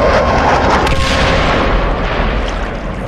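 Booming blasts from the Ministry bombing the city in the video game Dying Light, a dense, loud roar of rumbling explosions that fills the whole stretch and slowly fades toward the end.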